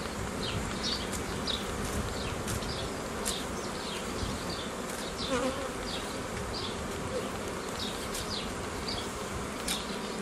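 Honey bees swarm around an open beehive with a dense, steady close buzzing that fills the whole stretch, individual bees droning past now and then, with no voices.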